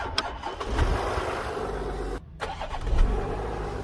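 A car with 1900-amp super capacitors installed cranks and starts up close, the engine catching quickly and then settling into a loud, rough idle.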